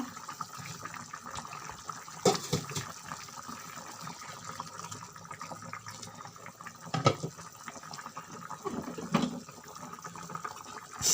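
Hot water pours into a pot of chicken curry being cooked in a village kitchen, a soft steady splash and gush running quietly over several seconds with a few louder clanks.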